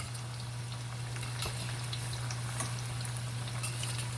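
Italian meatballs frying in oil in a pan, the oil coming halfway up the meatballs; a steady, soft crackle and sizzle with occasional pops, no talking.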